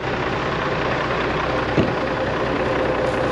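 Machinery engine idling after a cold-weather start, a steady low rumble with broadband mechanical noise that holds evenly throughout, with one brief knock partway through.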